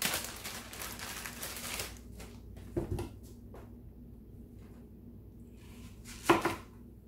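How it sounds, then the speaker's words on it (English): Half a medium onion is chopped on a kitchen board, a dense rapid burst of knife strikes at first, then a few isolated thuds and taps in a quiet room. "So I'm gonna chop, I already did my bacon, and I'm gonna do half of a medium onion."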